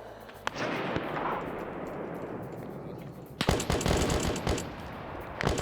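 Grenade explosions set off for demolition in a military video game, a sharp blast followed by a sustained rumbling roar, then a second burst of loud cracking detonations and debris.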